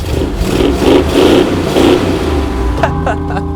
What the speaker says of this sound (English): That's how a muscle car should sound.